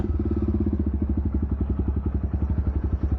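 A modified Jawa Perak bobber motorcycle idles on its raw exhaust, a loud, close, rhythmic low thumping pulse that keeps an even, lumpy beat throughout.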